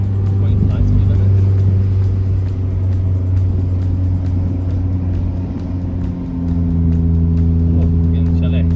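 Steady low rumble of a car driving along the road to Bodega Bay near Valley Ford, a constant engine and road drone heard from inside the cabin with a voice speaking over it.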